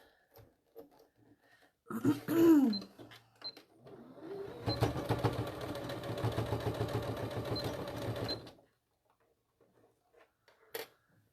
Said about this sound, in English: I'm going to sew that closed right on the edge of it, really tight.